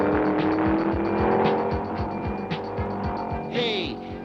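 In a 16mm Fat Albert cartoon, a car drives away with a steady, rhythmic engine chug and a brief tire squeal. It stays near and loud under background score, with no talk.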